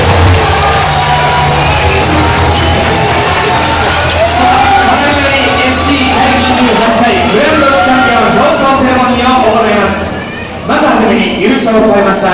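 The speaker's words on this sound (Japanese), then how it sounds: "盛大な拍手をお願いします" A crowd claps and cheers at a powerboat racing Grand Champion award ceremony, loud and sustained, with whoops and shouts mixed into the dense applause.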